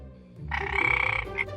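A frog croaks in a single rapid, buzzing pulsed call lasting about a second, close and fairly loud, with no voices over it.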